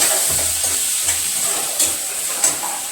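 Tomatoes tossed into hot oil for vadacurry, giving a bright, continuous close sizzle with a few sharper spits and stirring taps, no voices.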